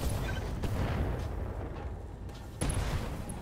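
A mech fires direct-fire weapons at an enemy mech in the video game RogueTech, a dense, rumbling barrage of booming blasts with a sharp new burst near the end.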